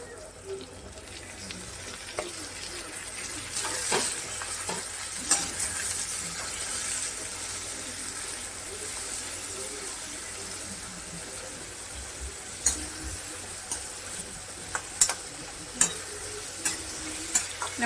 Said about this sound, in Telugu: ఇవైతే వేగిపోతున్నాయి చక్కగా